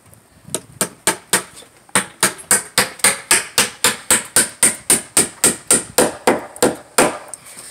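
A hammer drives nails through a fascia board into roof rafters, two nails per rafter. Roughly twenty sharp, evenly spaced blows land close and loud in a steady rhythm, with no talking.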